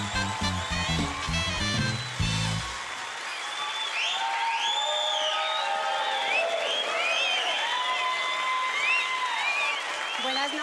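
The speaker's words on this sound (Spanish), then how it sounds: "Entonces la recibimos con ese cariño de aplauso a Vane Viana." A studio audience applauds and cheers a comedian, with dense clapping building after a short stretch of music and carrying on steadily with whoops and whistles over it.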